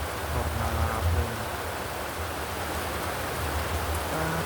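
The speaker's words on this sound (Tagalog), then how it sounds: "Grabe lang lumakas yung ulan nun." Heavy rain pours down steadily in the Philippines, a dense, continuous roar of drops on surfaces with a faint low rumble underneath, no voices.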